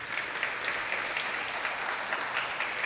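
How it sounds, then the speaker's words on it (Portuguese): A church congregation claps together in sustained, dense applause that holds evenly throughout, heard from within the room with no voices over it. "Você pode aplaudir ao Senhor por isso?"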